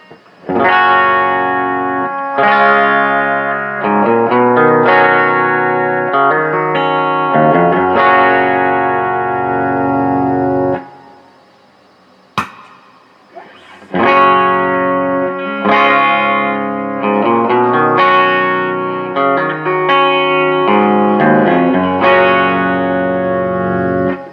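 Distorted electric guitar chords ring out through a Quilter Superblock UK amplifier, controls at 12 o'clock, in chunky, rhythmic bursts, pausing briefly in silence before the heavy riffing resumes.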